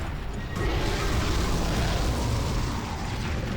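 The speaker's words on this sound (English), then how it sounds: "That was the noise of a bomb, a greatsword, and a velociprey all getting hit at the same time." In Monster Hunter Freedom, a bomb, a greatsword and a velociprey are struck at the same instant, setting off a sudden, dense explosive roar that holds as a broad rumbling wash for about three seconds.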